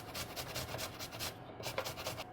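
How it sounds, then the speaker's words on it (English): Fresh ginger root rubs against a grater in quick repeated rasping strokes, close but soft, with a brief pause midway and no talk. "And now I'd like a piece of ginger. I think I'm gonna grate around a teaspoon or so."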